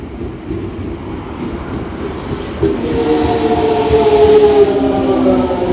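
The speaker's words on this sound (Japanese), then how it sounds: "1番線に普通羽田空港行き電車が参ります。" A Toei 5300 series commuter train rumbles into a station, steady low roar of wheels on rails with rising metallic squeal tones in the second half, loud and close.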